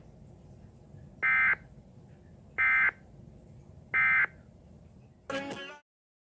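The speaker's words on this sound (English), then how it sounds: "This is a test of the Iowa Emergency Alert System" Three identical loud electronic beeps of an Iowa Emergency Alert System test, evenly spaced about a second and a half apart, then a short harsh buzzing data burst before sudden silence.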